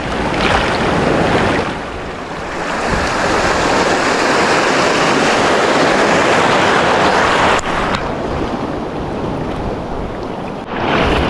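Ocean waves surge and break continuously on the shore of an island, a loud steady wash of surf with brief dips, close by and with no voices.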